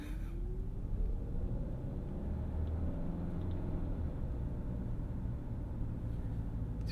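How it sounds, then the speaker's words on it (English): A 2025 Hyundai Santa Fe Hybrid drives in city traffic with a steady low road rumble and tire noise from inside the cabin, a faint rising engine or motor tone near the start, and no talking. "I will be quiet and just let you guys observe the noises of the Santa Fe."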